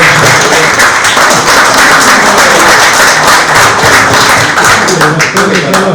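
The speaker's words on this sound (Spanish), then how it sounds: "Así que le pido un aplauso." An audience at a conference on military jurisdiction applauds a speaker whose birthday it is, a loud, close, sustained burst of clapping with distinct individual hand claps and a few thuds in the mix.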